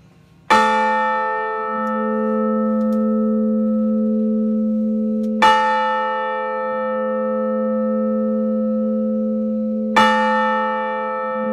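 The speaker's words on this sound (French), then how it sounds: "Deux villes, cloche," Three slow, deep strikes of a church bell in Deuxville, France, each ringing out and sustaining long before the next, loud and clear with no talking.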